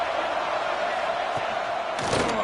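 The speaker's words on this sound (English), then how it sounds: "Guns up, and so is the noise. The crowd electric, trying to help Tech on this 3rd down." A stadium crowd roars at a Texas Tech football game on third down, a dense, steady wall of cheering and noise with a brief louder swell near the end.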